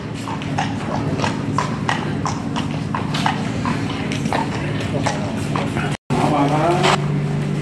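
Horses clip-clop in the stables of the Beas River Country Club riding school in Hong Kong. The hooves make a steady run of close, rhythmic clops over a constant low background hum.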